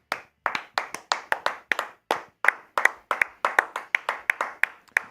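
Baseball crowd at PNC Park in Pittsburgh, Pirates against the Dodgers, claps in a steady, even rhythm as closer David Bednar stands one strike away. Sharp, evenly spaced claps run for the whole stretch with no voices.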